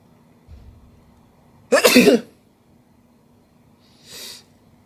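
A single sharp, explosive sneeze bursts out in a quiet room, followed a couple of seconds later by a softer, shorter breathy sound.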